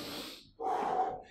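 A person doing HIIT exercise breathes heavily, with a long breathy exhale, a brief pause, then a strong, noisy inhale close to the mic, and no talk.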